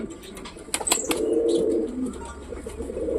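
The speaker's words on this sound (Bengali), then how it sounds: "ওপরে দুটো পায়রা আছে" A pair of wild pigeons perched overhead give low, soft cooing calls, starting with a few light clicks and flutters and then a steady murmuring coo close by.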